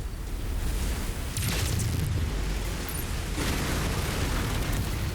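A destroyed target explodes in MechWarrior 5 as a loud, sustained booming rumble with bursts of crackling debris, steady and heavy across the whole clip.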